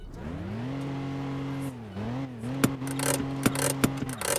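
A Renault Megane in a roleplay video game drives with a steady engine drone and rising and falling revs, with a few sharp clicks and knocks near the end.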